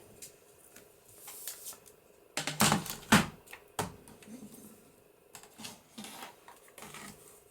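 Scissors or a blade trimming paper for a handmade journal cover, giving a few close crisp snips and rustles with a loud burst of cuts in the middle, then lighter paper handling.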